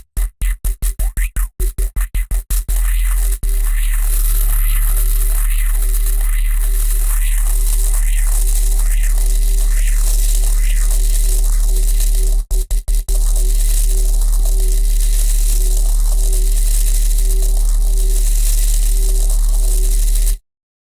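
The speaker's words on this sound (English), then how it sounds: "that grinder sound is pretty dry sounding though" A dry, buzzy synthesized guitar-style grinding tone with no effects pulses steadily in a repeating rhythm, loud and close, with sharp clicks at the start and again near the middle.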